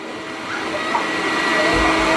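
A steady, whooshing vacuum hum sucks air out while something fills with water, growing slightly louder with a low rumble near the end.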